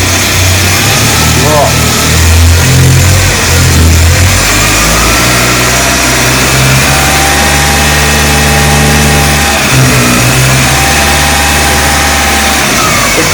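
A cold VW AP 1.8 engine with a strange noise is revved hard a few times and then settles back to idle, loud and close, while someone talks over it.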